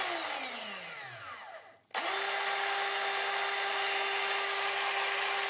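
Electric power tool with freshly replaced brushes run up after reassembly during a repair: a brief whir winds down, then a sharp restart settles into a loud, steady high-pitched motor whine with no talking.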